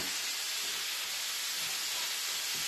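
Beef mince browning in a hot pan with garlic, peppers and onions for chilli con carne, giving a steady, dense sizzle and hiss with no pauses.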